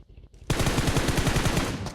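Rapid automatic gunfire in the PUBG Mobile battle royale game, a dense sustained burst of loud shots that starts abruptly after a brief quiet moment and continues without pause.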